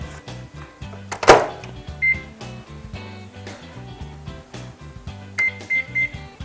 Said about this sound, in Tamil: த்ரீ மினிட்ஸ் மைக்ரோவேவ் செஞ்சால் பர்ஃபெக்டாக செட் ஆயிரும்.